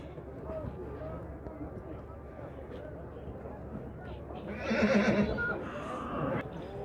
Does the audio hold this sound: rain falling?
no